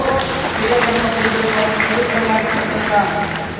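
A crowd at a devotional gathering claps loudly and continuously in a dense, steady wash of applause. A voice can be heard over it.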